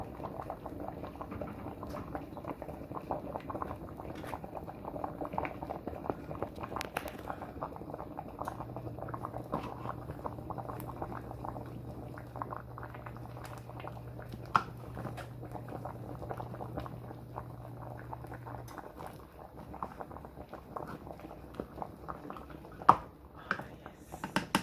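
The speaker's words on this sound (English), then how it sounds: "So that is the soup boiling." Pea soup with carrots bubbles and boils steadily in a pot, a continuous close bubbling patter with small pops, with no talk over it.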